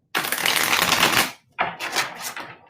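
Crisp, clean playing cards are shuffled close by in two quick riffling bursts, a long rapid flutter followed by a brief pause and a second shorter riffle, with no voices.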